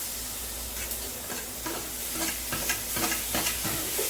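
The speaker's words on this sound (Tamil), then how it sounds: "தக்காளியும் நல்லா வதங்கணும்" Chopped tomatoes sizzle in hot oil with turmeric in a pan, a steady close frying hiss broken by scraping stirs, with no one talking.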